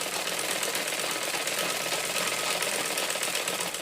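Sewing machine running steadily while stitching bone channels into a corset, a continuous close, even whir with no pauses and no talk.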